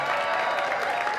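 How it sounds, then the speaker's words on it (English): Comedy club crowd at a standup show breaks into a brief, full round of applause, dense and even clapping filling the room for a moment. "Everybody give her a big round of applause for doing this."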